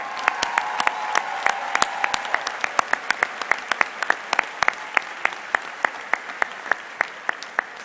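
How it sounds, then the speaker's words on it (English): A standing audience at a high school commencement ceremony applauds military veterans: a dense burst of clapping that thins into scattered, distinct individual claps as it fades out. "a round of applause for all of our military"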